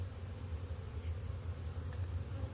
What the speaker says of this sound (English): Hopefully all these flying bees will go back in.